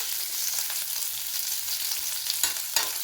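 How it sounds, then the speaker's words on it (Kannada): Curry leaves crackle and sizzle as they crisp in hot oil in a pan, a steady bright frying hiss with a couple of sharper pops near the end, close and continuous with no voices. "ಇವಾಗ ಕರಿಬೇವಿನ ಸೊಪ್ಪು ಹಾಕೋಣ. ಕರಿಬೇವಿನ ಸೊಪ್ಪು ಅಷ್ಟೇ ಕ್ರಿಸ್ಪಿಯಾಗಾದರೆ ತುಂಬಾ ಚೆನ್ನಾಗಿರುತ್ತೆ."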